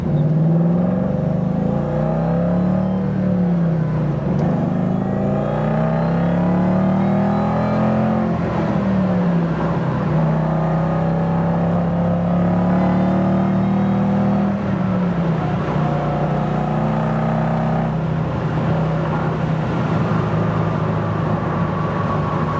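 A 1967 Mustang restomod accelerating hard, its rumbling engine note rising through the gears in several long revving pulls, loud and close.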